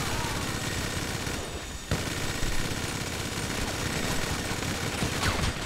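Continuous machine gun fire rattles in GTA 5 Online, loud and dense in sustained rapid bursts with only a brief lull partway through.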